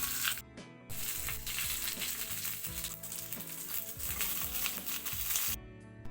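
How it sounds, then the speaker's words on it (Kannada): Cabbage momos placed one by one into hot oil in a pan, giving a steady, close sizzle with scattered crackles and a few soft clinks, briefly dipping before the frying noise returns. "ಇದನ್ನು ಒಂದೊಂದಾಗಿ ಎಣ್ಣೆಗೆ ಇಡಬೇಕು"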